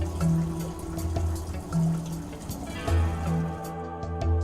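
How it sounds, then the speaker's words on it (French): Cleaning product poured into the clean water tank of a Hako Scrubmaster B75 R floor scrubber, a soft liquid trickle with gentle splashes and drips, close and fairly quiet. "Mesurez correctement la quantité nécessaire de produit de nettoyage et versez dans le réservoir d'eau propre."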